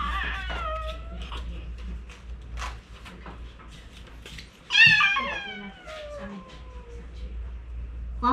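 A cat meows several times indoors in a drawn-out, rising and falling call, loudest near the middle, with people talking quietly in the background.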